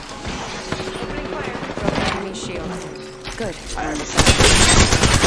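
Apex Legends gunfire: bursts of rapid shots and impacts under in-game voice lines and player talk, growing louder and denser toward the end.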